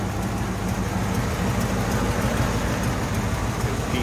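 A 346 cubic inch flathead monoblock V8 in a 1940 Cadillac Series 60 Special sedan idles steadily, a continuous low rumble with a broad hiss over it, near and even throughout with no talk.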